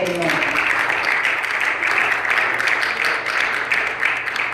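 A church congregation applauds steadily, dense clapping mixed with voices and cheering, loud and close throughout.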